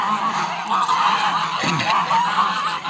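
Domestic geese, a gander, a goose and three goslings, honking loudly and repeatedly at close range, their calls overlapping in a continuous noisy chorus.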